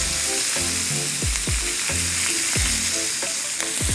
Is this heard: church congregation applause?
no